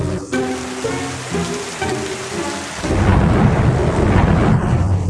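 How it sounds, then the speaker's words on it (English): Heavy rain pours down steadily while thunder rumbles, the downpour growing louder and denser partway through. "So I turned off the lights and started raining."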